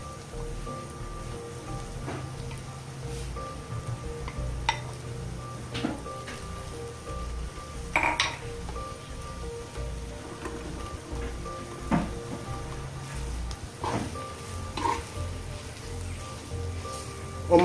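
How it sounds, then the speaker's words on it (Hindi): Masala and mashed potato fry gently on a low flame, a faint steady sizzle with intermittent spoon clicks and scrapes as the mixture is stirred, heard close and alone. "मसाला हमारा बहुत ही अच्छी तरह से भून चुका है। अब हम उसके अंदर मैश किए हुए पोटैटो डालेंगे।"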